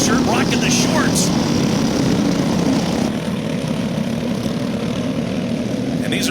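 Vintage Margay go-karts fitted with $100 Harbor Freight Predator 212cc engines race on track, a steady loud buzzing engine drone filling the whole stretch with no gaps.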